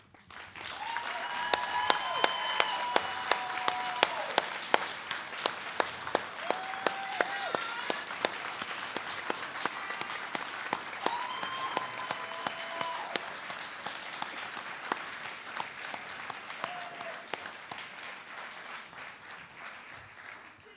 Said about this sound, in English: We would like to request that all graduates please stand for one last round of applause.